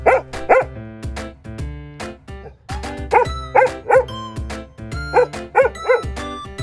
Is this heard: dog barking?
yes